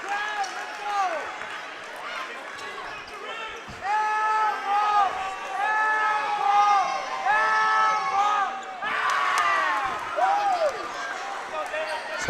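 Los Fresnos fans at a high school basketball game chant in unison after a missed free throw, their rhythmic sing-song calls rising and falling nearby over crowd noise and a bouncing ball.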